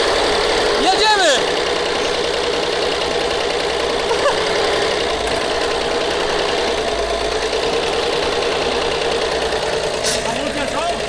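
An old Star 660 truck engine drones steadily while the truck is driven, a loud continuous mechanical rumble with rattling that runs the whole way through, with a few brief knocks and clunks over it.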